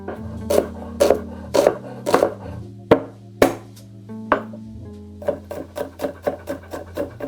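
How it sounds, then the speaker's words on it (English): Two small onions are finely chopped with a knife: a steady run of crisp, close chops that pause briefly midway, then quicken into rapid strokes, set over a low sustained tonal backing. "First I will chop some onions."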